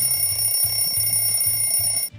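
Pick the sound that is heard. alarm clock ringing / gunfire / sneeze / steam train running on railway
alarm clock ringing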